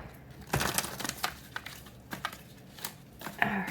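Tarot cards are shuffled by hand at close range: soft, quiet riffles and papery crinkles in irregular bursts, with no talk.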